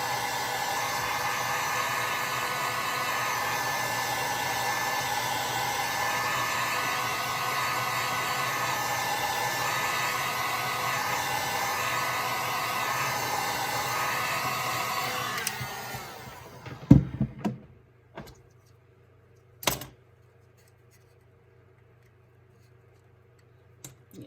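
A heat gun blows a steady, loud broadband roar while heating an epoxy-coated tumbler during stripping, running continuously for about sixteen seconds, then cutting off, followed by a few clicks and knocks and near silence.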